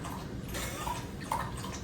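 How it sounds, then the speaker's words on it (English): A dog laps water from a bowl, producing soft, wet splashing and dripping sounds that continue steadily and close by, with faint background noise. "what you're hearing is a dog drinking water currently"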